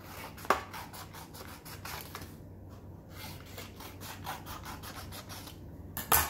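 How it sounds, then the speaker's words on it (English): Scissors cut strips for homemade sticky traps, a steady close rasping, rubbing sound with a couple of sharp snips. "to make your DIY sticky traps, you just want to cut a couple strips"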